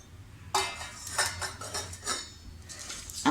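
Chana dal poured into a hot dry pan, a burst of rattling grains and metal clinks followed by scraping and stirring strokes, close and with no talk.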